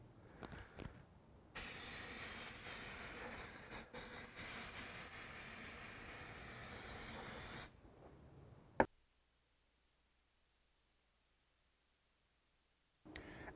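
Release agent is sprayed from an aerosol can onto a mold, a loud continuous hiss lasting about six seconds with short bursts before it, then a click and near silence.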